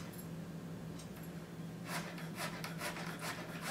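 Knife cutting a round vegetable into even slices on a board, a run of quick crisp strokes close up in a rapid rhythm, with no voices.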